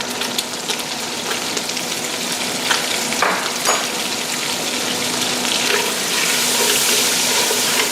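Shells roasting in a hot pan with Old Bay seasoning sizzle steadily and loudly, a continuous crackling hiss with a few sharper spits, no voices.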